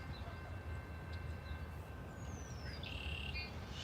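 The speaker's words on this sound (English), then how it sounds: "Here's our westbound train." A westbound train rolls past in Ottumwa, Iowa, as a steady, loud rumble that fills the whole stretch, with a thin metallic squeal and a few bird chirps above it.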